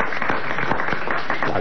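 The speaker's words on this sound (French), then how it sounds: "On peut même l'applaudir" A studio audience claps during a French radio comedy show, a brief, dense, even burst of applause filling the whole moment without any spoken words.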